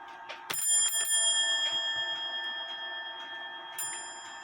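The bell of an antique 1830 Black Forest shield grandfather clock rings with bright, sustained metallic tones, struck twice about three seconds apart, each ring lingering and decaying between soft mechanical ticks and clicks.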